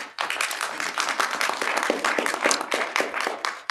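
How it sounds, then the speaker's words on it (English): Applause in a municipal council chamber, a crowd clapping steadily and densely throughout, close and fairly loud. "could you please refrain from applause and have some decorum in the council chamber"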